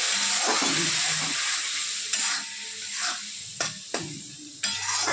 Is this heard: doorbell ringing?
no